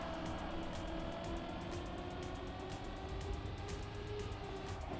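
Racing cars in a video game roar steadily with high engine whine and faint tire scrub as one drifts through a corner, a continuous loud engine drone that fills the whole stretch.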